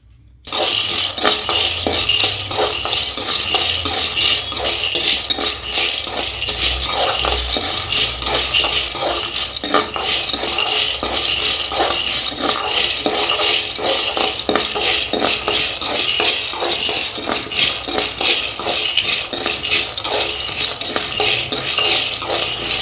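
Chana dal dry-roasting in a pan, stirred steadily with a metal spoon, giving a dense continuous rattle and scrape of dal against metal, loud and close throughout, no voices.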